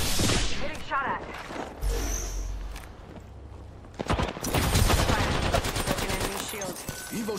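Gunfire fills a video game duos match, with a voice talking over it. Scattered shots come first, then dense automatic bursts and rapid volleys grow loud and continuous toward the end.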